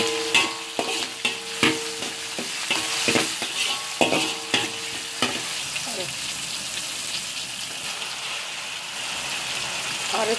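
Tomato being stirred into a frying pan while cooking spinach koothe, with repeated scraping stirs in the first half over a steady sizzle that carries on alone to the end.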